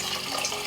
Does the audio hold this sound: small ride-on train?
no